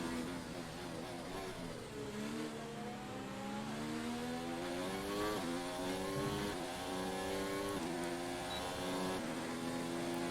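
An F1 car in the racing game F1 2019 rounds the final corner of a lap, its engine note dipping then climbing through rising revs with quick gear changes, loud and continuous with no talk.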